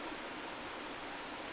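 Creek water flows steadily beside a flat wooded clearing, a constant broadband rushing hiss that stays even and close throughout, with no voices.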